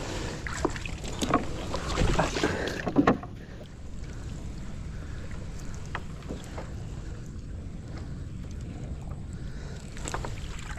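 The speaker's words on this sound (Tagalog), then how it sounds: "Sakay sa bangka." Water sloshes and laps against a small boat as it moves, with steady wind rumble over the microphone and a few faint splashes.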